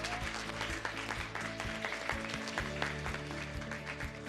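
An audience claps at a Modicare business gathering, with sustained applause running underneath loud, rhythmic background music that has a thumping beat.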